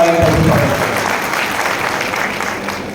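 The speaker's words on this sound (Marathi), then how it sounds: "त्याबद्दल आपण जोरदार टाळ्या" Enthusiastic audience applause at a Marathi political speech in Latur, a dense, steady clapping that starts strong and stays loud throughout with no voices on top.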